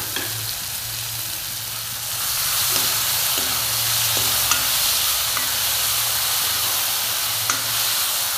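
Tomato paste sizzles and fries loudly in a pan with pork for an Assamese pork recipe, with occasional scraping stirs and a steady hiss that grows fuller after a couple of seconds; no one speaks.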